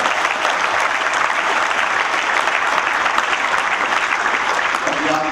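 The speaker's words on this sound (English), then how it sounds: "let's give the Chamber a team a nice round of applause" An evening event audience claps steadily for the Chamber team in a thick, sustained round of applause that fills the whole stretch at an even level.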